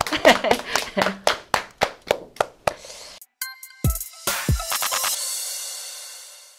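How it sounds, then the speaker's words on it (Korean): A studio audience on a Gimpo local talk show gives a short run of loud, distinct claps, about a dozen sharp separate hits in an even rhythm, followed by scattered clicks and noise. "박수로 응원 한번 해볼까요?"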